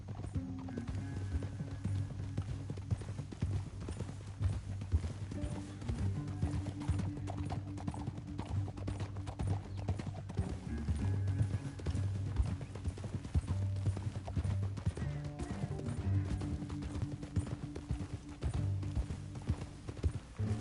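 Horses gallop through a canyon in the Red Dead Redemption western video game, steady rhythmic hoof clip-clops continuing for the full stretch with occasional faint whinnies and a low soundtrack underneath.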